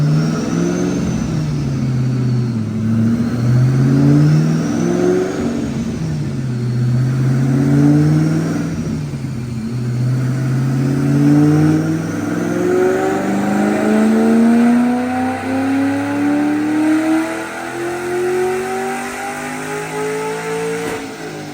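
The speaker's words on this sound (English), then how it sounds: "Check out this dyno pull." A supercharged 2009 Mustang GT with a Brenspeed Paxton kit revs hard on a DynoJet dyno, the engine note climbing in repeated loud rising sweeps with supercharger whine, continuous and without talk.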